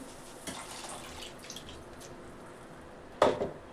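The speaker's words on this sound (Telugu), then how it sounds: "ఈ టైంలో వేసుకోవాలి చింతపండు పులుసు" Tamarind juice trickles and drips faintly into a cooking pot, with a few soft splashes that end in a sharper splash near the end. No one speaks.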